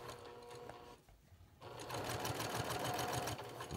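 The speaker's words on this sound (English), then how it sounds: "let's put our 1/4 inch seam in." A sewing machine runs a quarter-inch quilt seam in quick mechanical bursts. A short rattle of stitching stops for a brief pause, then a longer, steady run follows, close up and fairly quiet.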